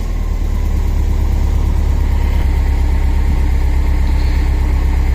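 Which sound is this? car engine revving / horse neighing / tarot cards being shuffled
car engine revving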